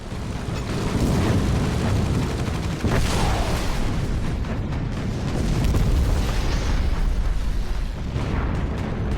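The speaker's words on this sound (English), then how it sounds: "pressing the right trigger will release the bomb" Bomb explosions in Battlestations Pacific, a dense, continuous rumble of heavy booms and blasts that stays loud throughout, with sharper cracks layered over the low roar.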